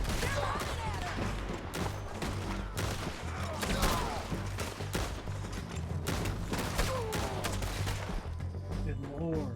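Rapid gunfire rattles through a shooter game's combat, dense bursts of shots in a continuous barrage with occasional louder cracks, overlapping with faint voices and game sounds.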